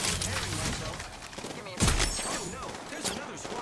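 Gunfire in Apex Legends: a short close burst around the middle and a lighter shot near the end, mixed with game noise and talk.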